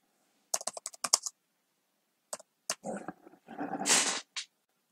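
Fast keystrokes on a computer keyboard, with quick bursts of clicking, short pauses, and a longer rattling run toward the end, close and clear with no talk.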